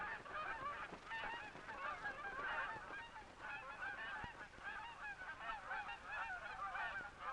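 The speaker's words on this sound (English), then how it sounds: "Soon the air is filled with geese on their way to a region where there is more food." A flock of Canada geese honks continuously while migrating in flight, many overlapping calls at moderate distance with no voices.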